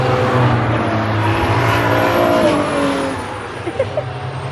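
Go-karts race past on a lakeside karting track, a steady loud engine drone with whining tones that shift in pitch as karts pass, easing off near the end; a voice speaks briefly over it.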